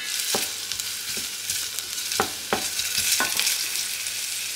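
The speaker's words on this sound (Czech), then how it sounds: "Cibulku si osmažíme." Chopped onion frying in a pan for halušky, a steady close sizzle with occasional sharp clicks of a spoon stirring against the pan, no voices.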